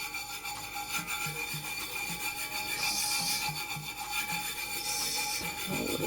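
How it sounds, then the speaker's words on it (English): Steady rubbing as glitter is worked by hand into the design on a tumbler, a continuous close scratchy friction with a faint rhythmic pulse and brief brighter swipes, no talking. "now what we're going to do is to rub the glitter in"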